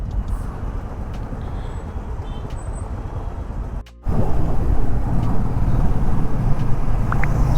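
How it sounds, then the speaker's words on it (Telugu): City road traffic in Bangalore near HSR Layout heading toward Silk Board junction, a dense, steady rumble of engines and tyres heard from a moving vehicle, loud and close, with a brief dip before the roar resumes. "ఇంకా ట్రాఫిక్ షురు."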